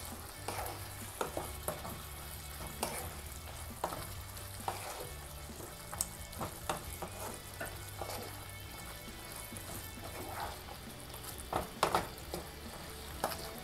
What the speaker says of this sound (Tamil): இப்போ இதை நம்ம நல்லா கலந்து விட்டுக்கலாம்.